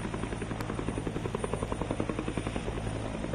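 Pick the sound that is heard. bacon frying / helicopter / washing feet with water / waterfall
helicopter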